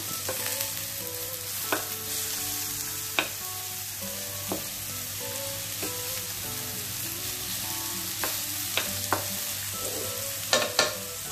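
Mushrooms sizzle and fry in a pan for stuffed mushrooms in forest sauce, with a steady low crackle and occasional sharp scrapes and knocks as they are stirred, fairly quiet and without talk.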